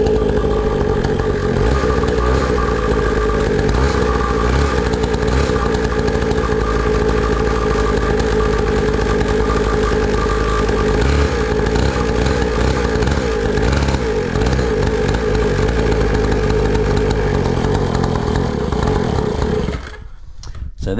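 A kids' four-wheeler ATV, kick-started while on choke, runs with a steady buzzing, rattling small-engine idle close by for about twenty seconds before cutting out abruptly at the end.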